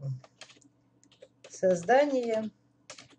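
Someone types on a computer keyboard in brief, soft bursts of clicks, with a person speaking over part of it.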